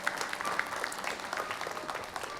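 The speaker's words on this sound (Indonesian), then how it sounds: "Terima kasih banyak Mas Adi, boleh kita berikan tepuk tangan." A crowd at a live televised event gives sustained applause, a dense, even wash of clapping heard from a moderate distance with no break across its short span.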